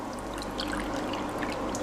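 Water pours steadily from a cup into a cooking pot for rice, a close, continuous splashing trickle lasting a couple of seconds with no talking.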